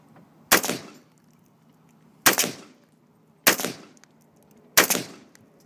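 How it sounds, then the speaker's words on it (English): An AR-15 rifle fires four separate shots at a fire extinguisher outdoors, each a sharp loud crack with a short echoing tail, spaced irregularly about one to two seconds apart. "I'm gonna shoot one more and then you can shoot the last one"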